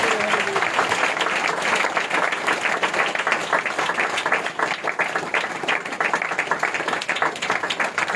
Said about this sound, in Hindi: ताली बजा दे रही है भाई याकूब के लिए